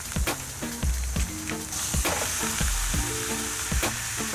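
Meat frying in a pan during van-life cooking, sizzling loudly and steadily while a spatula repeatedly scrapes and taps against the pan in an uneven rhythm.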